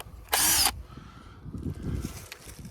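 A power drill boring a 1-inch tap hole into a maple tree, one loud burst of about half a second followed by softer handling noises and rustling.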